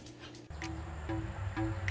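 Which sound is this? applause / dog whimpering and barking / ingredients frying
dog whimpering and barking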